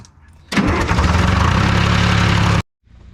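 A skidder engine that sat for 15 years fires up abruptly, running loud and rough for about two seconds before cutting off into silence.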